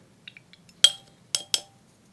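A brush clinks against a watercolour mixing tray while paint is mixed: a few faint taps, then three sharp ringing clinks, each fading quickly, with no talk.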